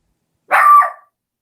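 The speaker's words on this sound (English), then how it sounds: "that dog sounds emaciated" A single close, loud bark from a thin young puppy, short and slightly whiny, with silence around it.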